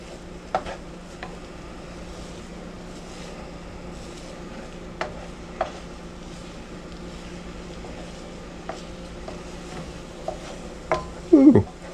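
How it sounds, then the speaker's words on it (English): Scrambled eggs with radish greens being stirred in a pan, giving occasional sharp utensil taps and scrapes over a quiet background, ending in a brief louder clatter. "We're just going to start moving those eggs."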